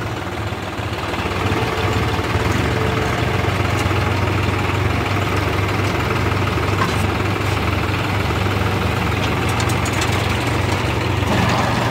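A farm machine's engine runs steadily at work outdoors, a continuous close diesel drone with constant low rumble and vibration throughout and no speech.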